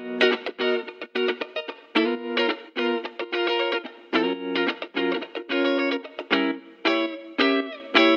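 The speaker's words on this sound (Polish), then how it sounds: "Drugą mega istotną rzeczą jest top line z gitarą elektryczną." Chopped electric guitar loop from a Splice sample pack, cut up in FL Studio to fit a chord progression, with short distorted, effects-laden chord stabs in a stuttering rhythm, clear and upfront, with no voices.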